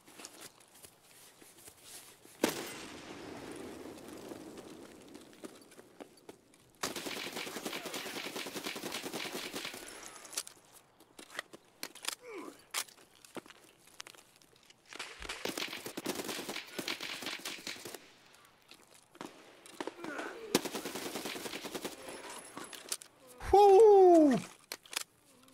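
A UMP submachine gun fires in Escape from Tarkov, with several sustained automatic bursts separated by pauses, along with sharp clicks, a brief electronic chirp and someone talking in between.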